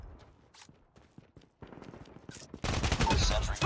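A sentry gun fires in the mobile shooter game Call of Duty Mobile: quiet, scattered shots give way to a louder, dense burst of rapid automatic gunfire at the end.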